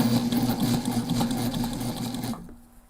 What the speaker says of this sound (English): I'm gonna put my foot down here. And hold on to my tails.